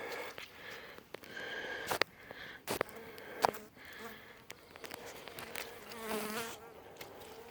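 Near a beehive, a single bee buzzes around quietly close by, its faint drone rising and fading between soft rustles and small bumps.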